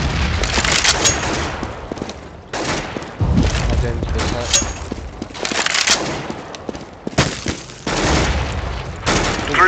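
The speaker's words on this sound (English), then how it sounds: "Grenade out." Grenade blasts and bursts of gunfire from a Counter-Strike competitive match ring out loud and close, with repeated booms and rapid shot volleys filling the stretch.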